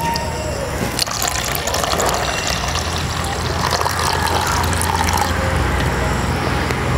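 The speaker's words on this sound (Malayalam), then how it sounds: "ഇല്ലെങ്കിൽ നമുക്ക് തെളിയായിട്ട് ഒഴിച്ചു കൊടുക്കാവേ" A liquid tobacco solution, strained to keep a sprayer from clogging and meant as a slug treatment for orchids, is poured in a steady, loud, continuous gushing stream for several seconds without a break.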